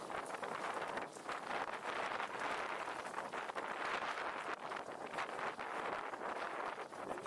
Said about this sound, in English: the wind here is very tough